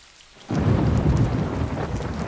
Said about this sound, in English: Oh no! It's a thunderstorm!